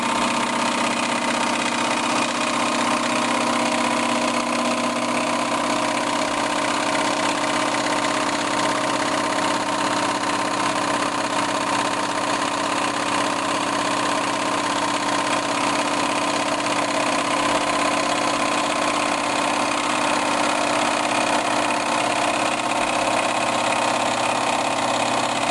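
A 1950s Wilesco D20 toy steam engine runs gently over a small pipe-tank burner, giving off a steady, even mechanical hum and hiss that holds unchanged throughout.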